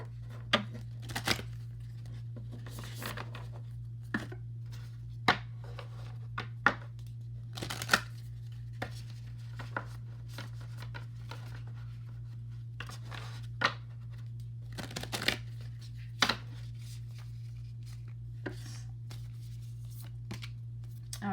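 Tarot cards being shuffled by hand indoors, a series of soft riffles and brisk papery slaps at irregular intervals, close and fairly quiet over a steady low electrical hum.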